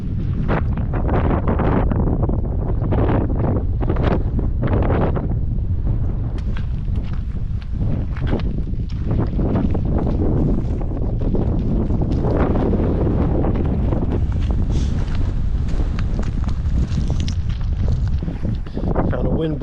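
Strong wind blows across a river valley, a loud, continuous rumbling buffet that roars against the microphone in uneven gusts, close and dominant throughout.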